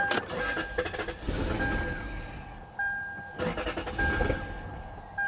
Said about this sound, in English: It may not start at all with all this stuff unhooked right now, but I think it's worth giving it a shot.